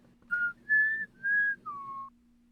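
Four clear, separate whistled notes, the first three held at a similar pitch and the last sliding lower, sounding close and alone over a faint steady hum.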